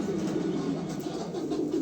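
A female pigeon from 2016 coos in a low, continuous murmur, steady and close, with no other sounds around it.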